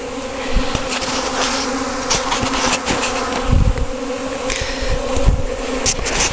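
Honeybees swarm out of a hive on a spring day, a dense continuous buzzing hum from many insects close by, with individual bees zipping past the microphone.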